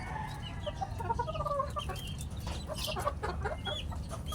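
Sweater gamefowl hen and her pullets clucking close by in a farmyard, a soft continuous chatter of overlapping clucks and brief calls.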